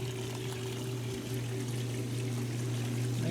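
Water drains out of a Maytag washing machine tub, swirling down in a steady, continuous pouring and trickling stream over a constant low motor hum.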